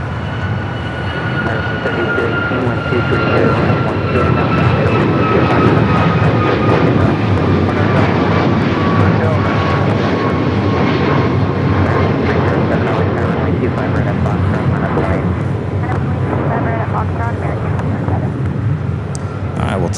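A heavy jet airliner arrives at LAX, its loud, sustained engine roar and rushing whine filling the whole stretch, with voices talking underneath.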